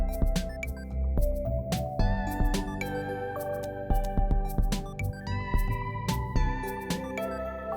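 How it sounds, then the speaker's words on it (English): Sharp percussive clicks with reverb tails sit inside a dense, sustained music mix, recurring irregularly through the passage at moderate loudness with no voices. "And she uses a click sound like this with some reverb just like this."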